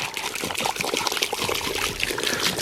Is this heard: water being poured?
yes